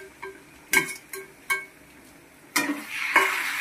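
Chicken for a Bengali curry goes into hot oil in a pan, giving a few sharp metallic clanks and scrapes of stirring, then a rising sizzle near the end.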